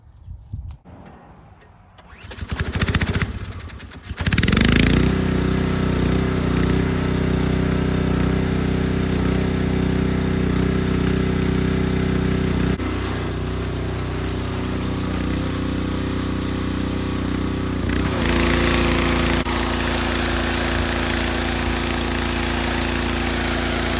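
A Ryobi 3200 gas pressure washer engine starts after a couple of pulls and then runs loud and steady close by, its drone dipping slightly in pitch partway through and holding without a break.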